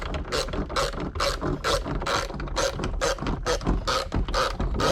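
A 4mm Allen key turning counterclockwise in a BMW E46 convertible top latch gear mechanism, producing close, loud, rapid ratcheting clicks in regular repeated bursts with no voices.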